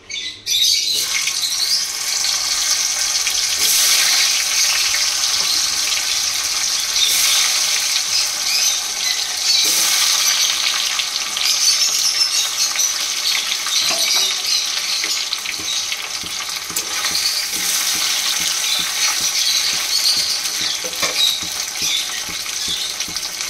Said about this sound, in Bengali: প্রথমে লাল লাল করে আলুগুলো ভেজে তুলে নেব।